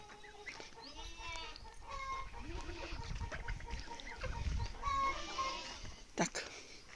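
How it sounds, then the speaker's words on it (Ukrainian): Several ginger hens cluck and murmur nearby in a loose, overlapping chatter, with a sharper squawk near the end over a quiet outdoor background. "тут мої кури"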